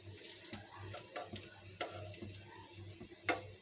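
Onion fritters (piyaju) fry in hot oil, giving a quiet, continuous sizzle with scattered faint scrapes and taps from stirring.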